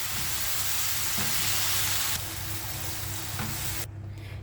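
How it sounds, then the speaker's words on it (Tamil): Mushrooms sauté in ghee in a pan, giving a loud, steady sizzle and frying hiss up close, with brief stirring scrapes, before the sound drops off at the end. "கொஞ்சம் நெய் விட்டு நம்ம இதை கொஞ்சம் சாட்டே பண்ணி எடுத்துக்குவோம்."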